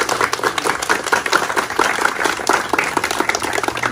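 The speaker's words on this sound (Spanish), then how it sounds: "Un fuerte aplauso, hermano." Applause at a community gathering in a Kukama native community in the Amazon, close and lively clapping from a small group with uneven, fluttering rhythm throughout.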